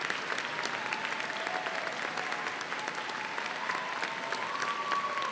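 A large crowd at a spring graduate commencement ceremony applauds graduates' families with sustained, even clapping that sounds broad and somewhat distant, with a faint tonal whistle or murmur beneath.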